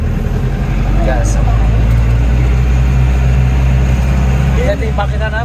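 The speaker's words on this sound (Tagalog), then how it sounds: "Ito yung makina namin." A vehicle engine runs steadily and close, with a deep constant low rumble that holds throughout while voices chat over it, in a rocky hillside setting in Irisan, Benguet.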